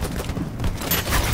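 A fragmentation grenade blast in a video game: a short, muffled boom with rumbling debris that swells toward the end of a brief moment.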